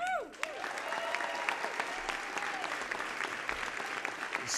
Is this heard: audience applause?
yes